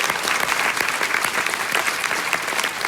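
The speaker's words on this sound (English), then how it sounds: "let's have a round of applause for this extraordinary cast" An audience at a film Q&A applauds the cast, a full, lively burst of clapping from a packed room, close and sustained at an even level throughout.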